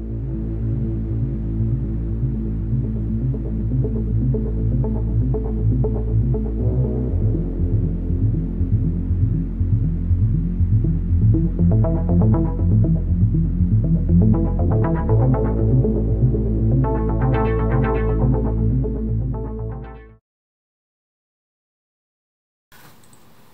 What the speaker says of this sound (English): I'll machine them right here.